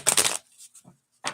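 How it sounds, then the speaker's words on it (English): Playing cards are shuffled in a quick crisp riffle burst, followed by a few soft small clicks and a second short shuffle, close and clear with no voices. "Got about 4 more shuffles."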